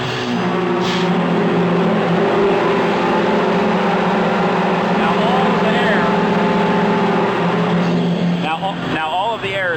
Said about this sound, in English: Now all of the air is coming up through the aerators, and that's the noise they make when there's no product in the tank